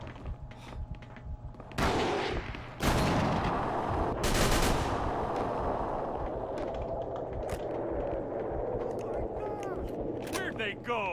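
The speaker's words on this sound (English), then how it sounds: "At least that Tommy gun tears through him." A Tommy gun fires in the video game Call of Cthulhu: Dark Corners of the Earth, loud bursts of automatic fire and sharp shots with crackling combat noise, while voices talk over parts of it.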